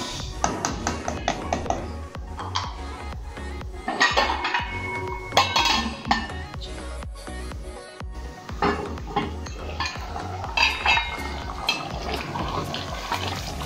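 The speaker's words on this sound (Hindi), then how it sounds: "अब हंडिया का ढक्कन ऊपर दे देते हैं इसको।" Metal clatter of a lid set onto a cooking pot of chicken biryani amid busy kitchen clinks and taps, with steady cookware noise throughout.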